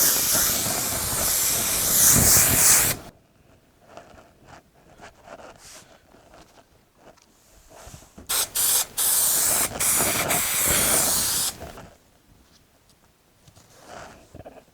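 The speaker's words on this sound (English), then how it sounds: "Now I'm going to glue oh no, sprayed myself." A spray adhesive can sprays in loud hissing bursts, one long blast then a series of short ones, with quiet pauses between.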